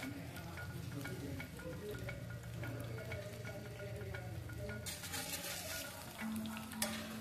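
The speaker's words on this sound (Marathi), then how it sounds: "मी इथे फक्त 2-3 चमचे तेलामध्ये शॅलो फ्राय करून घेते आहे" Rohu fish shallow frying in two or three spoons of oil on a hot tawa makes a faint, steady crackling sizzle, joined near the end by a soft tonal hum, with no talking.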